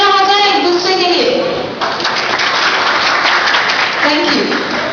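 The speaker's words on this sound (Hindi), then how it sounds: "तो एक बार जोरदार तालियां हो जाए एक दूसरे के लिए।" Sustained audience applause at an Airtel 3G launch event in Rajasthan, a dense steady patter of clapping under an announcer's voice speaking over it near the start and end.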